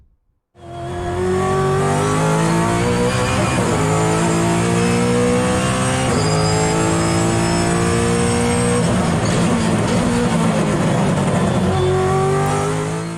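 A Brabham BT62 race car engine roars loudly and steadily at Bathurst after a brief quiet start, revving through gear changes with rising and falling pitch at close range.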